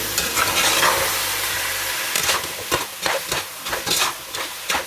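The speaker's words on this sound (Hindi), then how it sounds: "तो अब टमाटर के साथ भूनेंगे।" Onion masala with tomatoes fries in a pan, a steady sizzle giving way to a series of sharp scraping stirs and clatters, loud and close.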